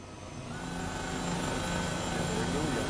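Simulated Airbus H135 helicopter in Microsoft Flight Simulator 2020, a steady turbine whine and rotor drone that slowly grows louder, heard under someone talking.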